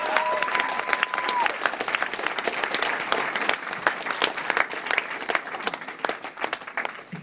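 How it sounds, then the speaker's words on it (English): Conference crowd claps for a speaker at a hacker convention: dense, sustained applause throughout, steady and fairly loud, with a brief tonal beep near the start. "Big round of applause for Johannes"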